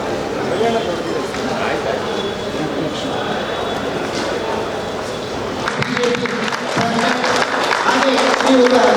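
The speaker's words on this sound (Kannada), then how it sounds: "ಎಲ್ಲರೂ ಕೂಡ ಜೋರಾಗಿ ಚಪ್ಪಾಳೆ ಮುಖಾಂತರ" An audience claps loudly at a Toyota Hilux car launch event, a dense, broad wash of applause that swells toward the end. A voice talks over the clapping.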